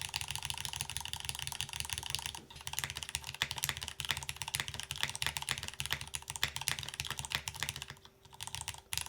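Continuous rapid typing on a mechanical keyboard with a resin bottom case, dense clacky keystrokes close up, with a couple of brief pauses and no talking.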